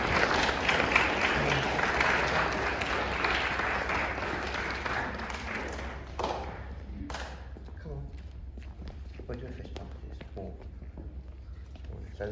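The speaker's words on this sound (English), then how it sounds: "So give them a round of applause, Oakley and Bodie." At a school celebration assembly, a crowd applauds with dense clapping for about six seconds before it fades into scattered claps, shuffling footsteps and voices.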